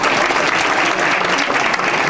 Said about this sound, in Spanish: pido un aplauso muy efusivo para la Universidad Santo